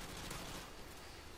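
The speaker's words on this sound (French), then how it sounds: "Là on est à l'AKU qui vient de Call of Duty 4, qui est une Kalashnikov" AK-74U, a shortened Kalashnikov, firing in Call of Duty 4: a continuous, dense roar of automatic fire that stays loud and steady for about a second and a half.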